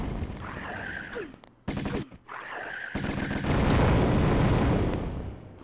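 Dense gunfire and explosions from a Tomb Raider battle on the 1996 PS1 game, with rapid shots and booms breaking into a brief cut-out before a loud, sustained roar of overlapping blasts.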